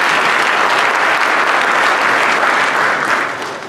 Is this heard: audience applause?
yes